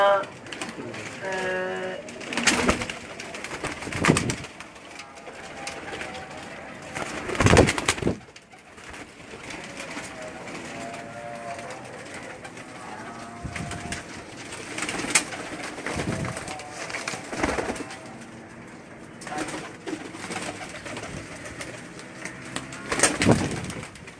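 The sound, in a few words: pigeons cooing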